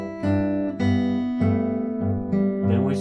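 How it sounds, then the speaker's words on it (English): Fingerpicked guitar playing the opening of a song: a flowing bass-and-treble pattern of ringing notes in a steady rhythm, heard close and clear with no voices. "When you put all that together, it sounds like this, our opening."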